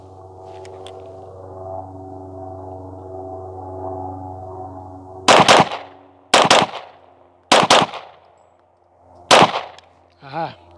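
Four rapid bursts of Glock pistol fire, each a tight cluster of sharp, loud cracks spaced about a second apart, ringing out over a steady low hum with a short tonal chirp at the end.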